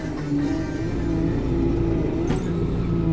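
A Lovol P4110 tractor pulls a SZF-3000 "Pony" seeder while sowing soybeans, its engine holding a steady, loud, close low drone throughout with no voices.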